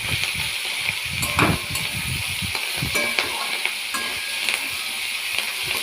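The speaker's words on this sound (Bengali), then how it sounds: "ঢাকাটা খুলে একটুখানি ভালো করে নাড়াচাড়া করে" Onion stalks cooking in a pan after the lid comes off are stirred, with scraping spoon strokes over a soft sizzle and several sharp knocks against the pan, close and alone.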